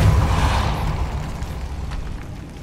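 Incendio and Depulso spells burst in the video game Hogwarts Legacy, one loud booming blast whose deep roar fades over a couple of seconds into a rumbling tail.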